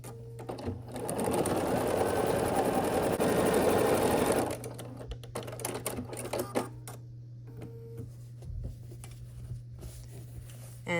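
Close by, a sewing machine stitches the seams of a star quilt block in one continuous rapid burst lasting about four seconds, then gives way to clicks and fabric handling over a low steady hum.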